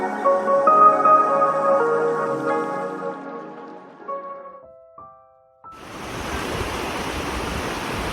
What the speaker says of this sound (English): A small river flows in this valley, and Iwayadoo is near the river.